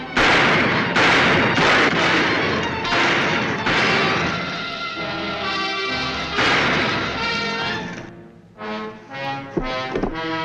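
Gunfire in a western TV show, with a loud, dense stretch of shots and crashes layered over music, then a few separate bangs near the end.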